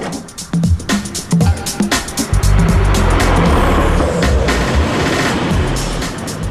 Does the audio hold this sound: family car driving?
yes